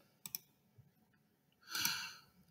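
Two quick computer mouse clicks close together while selecting an image in an Angular web app, followed a moment later by a soft, breathy rush of noise in an otherwise quiet room.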